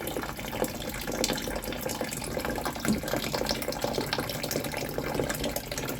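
Water runs continuously inside a toilet tank with a worn or misadjusted flapper, a steady close hissing trickle with no pauses and no talk.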